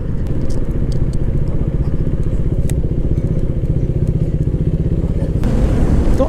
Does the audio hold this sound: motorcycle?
yes